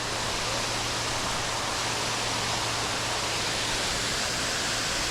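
Khoun Moung Keo Waterfall in Laos roars as a steady, dense broadband rush of falling water, loud and continuous throughout with no voices.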